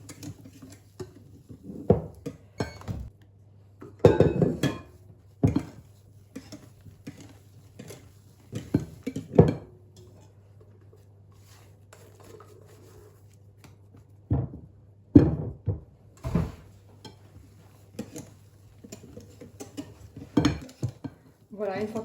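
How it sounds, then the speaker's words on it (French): Cheesecake batter with folded-in beaten egg whites being mixed fairly quickly in a bowl, giving intermittent scraping and clinking bursts of utensil against the bowl over a steady low hum, with quiet pauses between strokes. "la première fois, je mélange assez vite"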